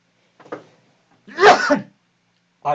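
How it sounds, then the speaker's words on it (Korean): A single explosive cough close to the microphone, preceded by a quiet breath and followed by silence. "이거 기침까지."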